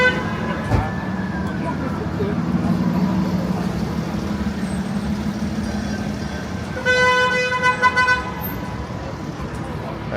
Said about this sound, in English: That streetcar is honking at the cab in front of it.